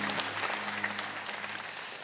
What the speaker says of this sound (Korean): 여러분 크게 박수로 환영하시죠